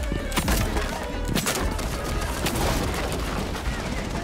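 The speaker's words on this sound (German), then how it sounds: "Der Legion hat zwei Schüsse von Maverick geschluckt." Rapid gunfire from the tactical shooter Rainbow Six Siege, including shots from the operator Maverick, crackles as a dense, continuous barrage with sharp bursts throughout, loud and busy with game effects.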